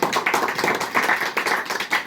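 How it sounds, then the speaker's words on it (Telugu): A church congregation at a Telugu Christian sermon clapping loudly together, a dense run of sharp, rhythmic handclaps at close range with no talk over it. "గట్టిగా చప్పట్లు కొట్టండి ఒకసారి."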